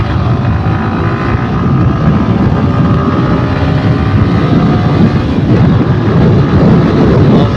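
A motorcycle ridden near Bordoloi crossing in Assam accelerates hard in fourth gear past 100, its engine drone rising steadily in pitch beneath loud, continuous wind rush.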